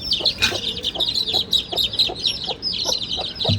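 A hen clucks repeatedly while being lifted and moved with her chicks to a new coop, a close, steady run of short clucks with faint chirps behind.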